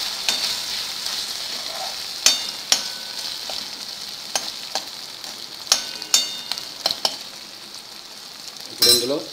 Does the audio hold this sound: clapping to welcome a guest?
no